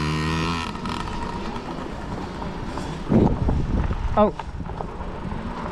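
Kids' dirt bikes race at full throttle around a motocross track at Brooksville, engines droning steadily with a couple of louder surges as they pass, while spectators shout and cheer over the noise.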